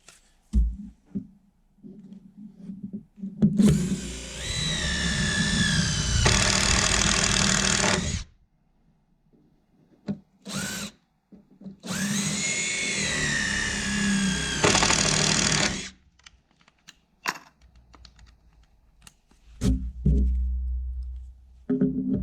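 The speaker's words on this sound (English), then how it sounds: "we're gonna fix them with these long 5-inch GRKs and pilot drill at an angle" Long 5-inch GRK screws are drilled and driven at an angle into timber for a timber frame barn floor, in two sustained whining bursts from a power drill, with clicks and knocks between them.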